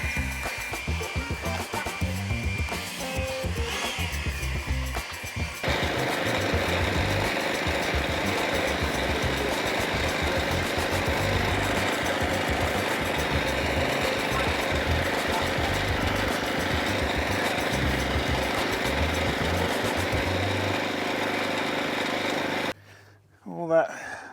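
A leaf blower on a low setting hums steadily while clearing leaves from corners, a continuous close whine that shifts slightly in pitch, cutting off near the end.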